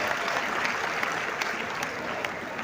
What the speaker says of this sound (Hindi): एक बार दोबारा तालियां बजाइए अपने लिए इस बार